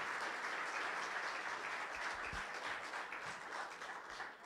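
Church congregation applauding together in a steady, dense wash of clapping that holds evenly for several seconds before easing slightly at the end; a few low thumps sit beneath it.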